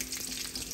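Shallots, curry leaves and dried red chillies fry in a pan, giving a brief, fairly faint hissing sizzle with light crackles.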